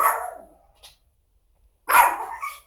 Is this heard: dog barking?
yes